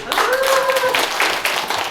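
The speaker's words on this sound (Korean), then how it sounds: "예, 박수 좀 환영해 주세요." An elderly-care center audience claps to welcome a trio singer at a volunteer group's performance; steady clapping rises under a brief sustained singing or speaking voice near the start.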